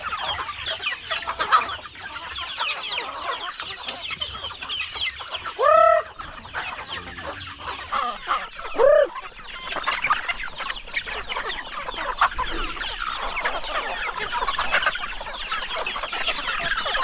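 Chickens cluck and squawk in a farmyard, with a few sharp louder calls standing out over continuous nearby clucking, with no talking.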